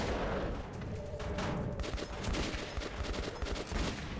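Rapid bursts of gunfire from the shooter game Metro 2033 Redux crackle in loud, overlapping volleys and fusillades throughout.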